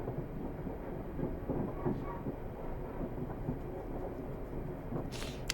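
Class 450 electric train running on the Portsmouth Direct Line in Train Sim World, a steady low rumble of wheels and motors with faint rail clatter throughout, a brief brighter hiss near the end.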